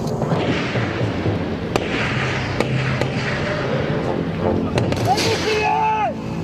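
Military gunfire during a training assault by a French regiment, scattered sharp shots over a dense, rumbling outdoor background, with voices faintly present.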